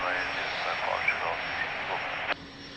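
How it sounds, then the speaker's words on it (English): A Bombardier Challenger 350 business jet at Lisbon Airport gives a steady, broad engine roar that holds evenly, then a sharp click near the end cuts it to a quieter hiss. "Bombardier Challenger 350, beautiful."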